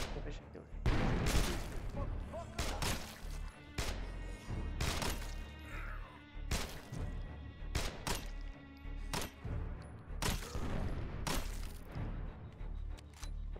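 Gunshots from a weapon in the zombie game State of Decay ring out in spaced, loud cracks at irregular intervals, with some talk mixed in between.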